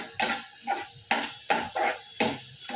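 Ingredients sautéed in oil in a pan, with a series of close, sharp stirring clacks and scrapes in an irregular rhythm over a faint sizzle, no talk.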